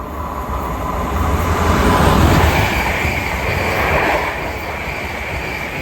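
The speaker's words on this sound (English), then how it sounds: "the next train to make an appearance is a duo of Class 350s going from London Euston to Birmingham New Street" A pair of Class 350 electric multiple units on the London Euston to Birmingham New Street service runs through Stechford station, a loud close rushing roar with wheel rumble and squeal that swells mid-pass, then eases slightly.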